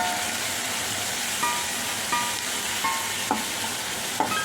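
Ivy gourd curry stirred in a pan over high heat: a dense, continuous sizzle with regular scraping strokes of the spoon every second or so.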